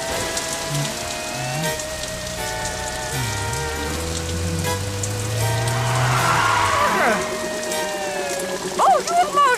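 Heavy rain pours steadily in a French children's cartoon set around a zombie hotel, a dense continuous patter that runs alongside background music and voices talking throughout.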